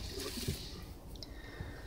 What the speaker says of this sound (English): Gotta get in here and water these guys.